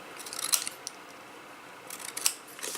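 Scissors snipping small wedges out of paper card for a card-and-box project, a few crisp close cuts in two quick clusters separated by a quiet pause.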